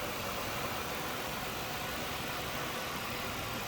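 A clean, smooth-running 3.8 liter V6 in a 2002 Chevrolet Monte Carlo SS Pace Car Edition idles with an even, faint hum under broad steady noise, with no talk.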